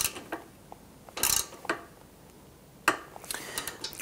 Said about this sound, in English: We're going to use our 5 millimeter socket to go ahead and snug this down.